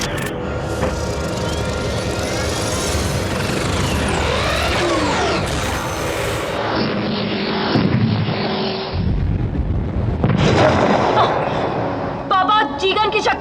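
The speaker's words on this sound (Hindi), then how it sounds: "Ji gun fire." G-gun firing in an animated space battle: a sustained loud mechanical roar and booming blasts with sweeping tones, dense and continuous throughout, with voices talking over parts of it.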